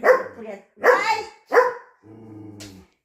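A playful dog gives three loud, close barks, a second apart, then a brief low growl.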